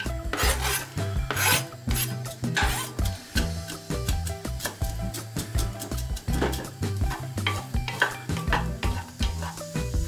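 Chopped onions going into olive oil in a pan, rhythmic rasping scrapes of a spoon stirring against the pan over a low sizzle, close by with no speech.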